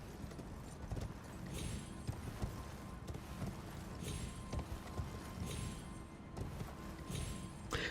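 Torrent, the spectral horse in Elden Ring, gallops in a steady run of close, loud hoofbeats with no talk over it.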